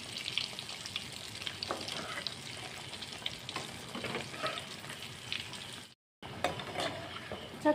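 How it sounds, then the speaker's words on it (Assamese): Sooji balls fry in hot mustard oil in a wok over a low-to-medium gas flame, giving a continuous bubbling sizzle with crackles, a brief drop to silence and then a resumed sizzle, with no voices. "অলপ ৰং চোৱাকৈ ভাজি লওঁ।"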